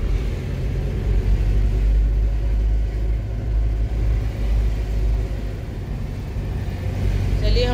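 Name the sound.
car driving on a dark road at night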